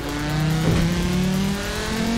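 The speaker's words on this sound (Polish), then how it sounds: "Ta Audica od niskich obrotów się wolno rozpędza" A small-engined Audi in the racing game Forza Horizon 4 pulls slowly up from low revs, its steady engine drone rising gradually in pitch, loud and continuous, with no voices over it.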